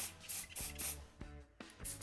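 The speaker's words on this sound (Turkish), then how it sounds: "Çok bir anda boca etmeyin spreyi saçınıza" Hair spray hisses from an aerosol can in a series of short, sharp bursts close by, with brief pauses between them.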